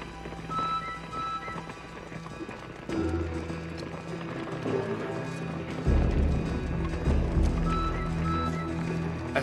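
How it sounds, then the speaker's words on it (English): Galloping horse hooves drum steadily on hard ground, growing louder and heavier partway through, with a low rumble beneath. "And then the pounding hooves on the hard ground."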